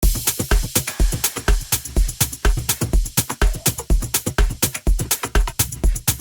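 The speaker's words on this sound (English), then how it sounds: "if I just play the drums with and without the cajon" A steady drum groove with punchy kicks, crisp snare hits and hi-hats, layered with the woody thump and slap of a cajon, played alone at a moderate tempo.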